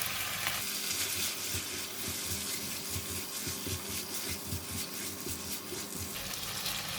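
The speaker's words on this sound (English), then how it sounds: "So I'm going to let it cook until the bok choy stem is soft." Yee mee noodles stir-fried with bok choy, tofu, oyster sauce, chili bean paste and sesame oil sizzle steadily in a hot pan, with frequent scraping and tossing strokes from a utensil layered over the continuous frying hiss.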